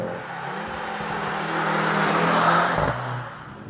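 A Mercedes-AMG C63S E-Performance sedan accelerating hard, a rising engine roar with a brief shift dip near the end, heard from inside the car without speech.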